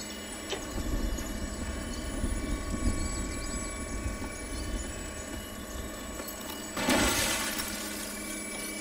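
A recon drone in Call of Duty Black Ops 3 flies with a steady whirring engine drone, and a sudden bright burst of noise breaks in about two-thirds of the way through.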